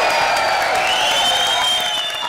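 Studio audience on a comedy show set clapping and cheering for actor Abhay Deol, a dense, steady wash of applause with whoops and a rising whistle, loud and continuous throughout without talk.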